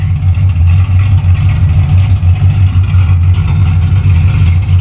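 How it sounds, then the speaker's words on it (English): A Camaro engine rumbles loudly and close, a deep steady throb with slight surges as it idles and revs. "It kind of sounds like old pickup truck."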